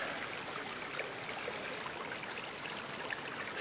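Mill Creek trickles along a mountain trail, a soft, continuous wash of running water heard alone, with a brief louder rustle at the very end.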